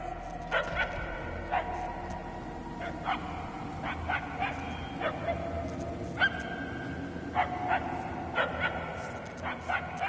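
A dog barks in repeated short bursts and yips, moderately distant, spaced irregularly over a steady low background hum.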